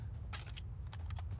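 A soldier reloads a weapon in the shooter Caliber, giving a quick run of faint, crisp metallic clicks and clacks over a low background hum.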